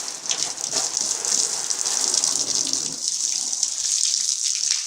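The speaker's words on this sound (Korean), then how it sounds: "머리에 물 옵니다!" Water sprays hard and steady from a pressure nozzle at a car wash, a loud, continuous hiss held close for several seconds without a break.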